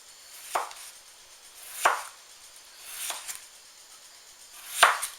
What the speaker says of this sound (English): you're just going to get them into thin slices